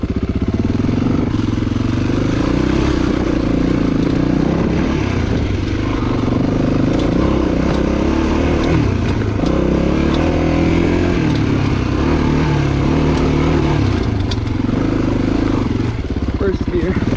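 A Honda XR400 dirt bike climbing an off-highway trail, its single-cylinder engine droning steadily in low gear with small shifts in pitch and loudness, loud and close throughout, with some clatter and a rider talking.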